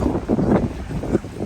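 Sea wind blows across an open seaside area in the Philippines, a loud rumbling buffet on the microphone that rises and falls in short gusts.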